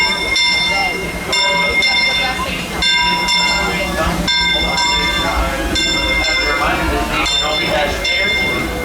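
A Disneyland Railroad steam train pulls into the station, with a bell ringing in steady repeated strokes and a rumble of rail cars underneath, close and loud, while a crowd of people talks throughout.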